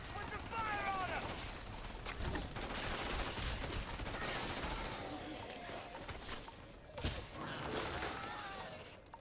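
Continuous automatic gunfire from the Starfield video game fills the scene, dense and steady with occasional louder impacts and crashes, while a voice speaks over it.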